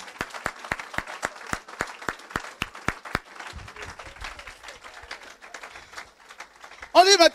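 Rhythmic clapping at a church service with evenly spaced claps that fade into scattered, softer applause, followed by a brief loud burst at the end.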